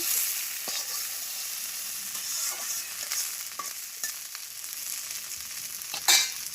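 Okra frying in a pan in a village kitchen gives a steady bright sizzle, with soft scraping stirs throughout and a sharper clatter near the end.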